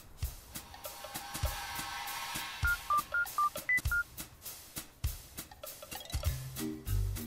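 A telephone number is dialed in a French cartoon, a quick run of distinct keypad tones following soft clicks and handling noise, ending with low electronic tones as the line connects.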